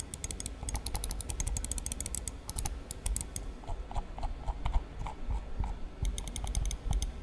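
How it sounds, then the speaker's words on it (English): Rapid clicks from the Omron switches of a Cooler Master MM830 gaming mouse, a dense run of soft, muted taps in irregular bursts, close up with no talking. "The front triggers are Omron switches, and they have a pretty soft, muted click to them."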